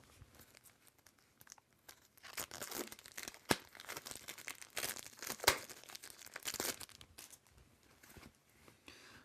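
Crinkly foil wrapper of a card game booster pack being torn and opened, several bursts of rustling and tearing close by, with quieter handling between them.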